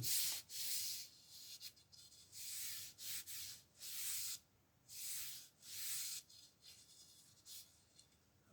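Finish is rubbed into the wood of a canjo by hand in repeated strokes to age it, a close, soft rhythmic hiss of cloth on wood in bursts with short pauses.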